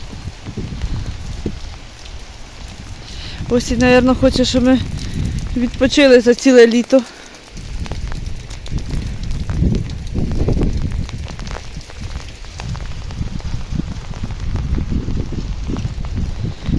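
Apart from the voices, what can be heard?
rain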